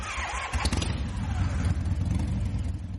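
Motorcycle engine starting in a Telugu action film scene, a short cranking burst followed by a rough, rising engine roar, close and moderately loud, with a little background noise.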